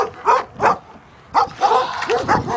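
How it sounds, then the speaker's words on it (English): A dog barks and yips in short bursts, two sharp barks, a pause, then a rapid run of yelps and barks close by while out on a walk, pulling on its leash. "Stupid dog."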